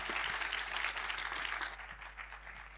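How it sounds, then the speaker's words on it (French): Audience applause at a Belgian tuberculosis campaign launch event, fairly quiet and continuous clapping that fades somewhat toward the end under a steady low hum. "Sous vos applaudissements, bien sûr."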